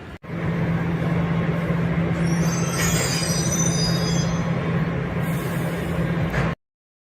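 A metro train rolls loudly through Century Park Metro Station in Shanghai, a steady rumble with a low hum and high wheel squeals rising midway, then it cuts off.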